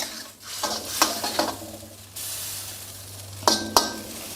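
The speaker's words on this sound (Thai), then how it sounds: "เดี๋ยวรอให้ซอสเดือดข้นขึ้นมาก็ใส่หมูลงไปครับ" Sauce for stir-fried stewed pork with holy basil bubbles and sizzles loudly in a pan up close, broken by bursts of stirring and spatula scrapes and clinks against the metal, with no voices.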